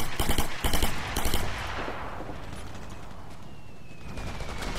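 Video game gunfire in Operation Flashpoint: Red River, a loud, close burst of rapid automatic rifle fire with several cracking shots, fading into a long rumbling echo and battlefield ambience.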